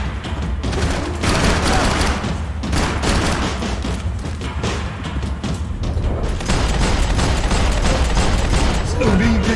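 Dense, continuous gunfire from the video game Max Payne 3: rapid bursts and booming shots crowd together without a break, loud and close throughout, with some background voice mixed in.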